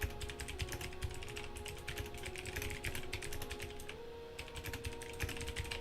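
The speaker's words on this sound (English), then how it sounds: "I'm just typing that." Someone types steadily on a computer keyboard, with rapid, close, continuous key clatter and small pauses and no talking.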